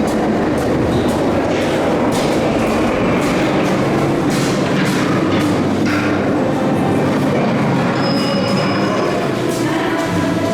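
A B&M inverted roller coaster train, OzIris at Parc Astérix, rolls out on dispatch with a loud, continuous rumble and clattering of wheels on track, close and steady throughout.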